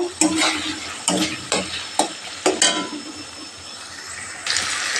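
A spice masala paste is stir-fried in a pan for a jackfruit curry: a constant sizzle with several rhythmic scraping stirring strokes, close and fairly loud, before a brighter hiss swells near the end.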